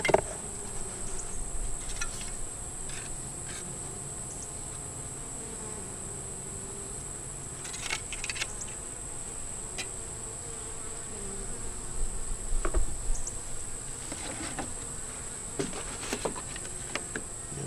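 A steady honeybee buzz hums throughout at a hive, with faint overlapping drones and a few soft clicks and taps, fairly quiet and close.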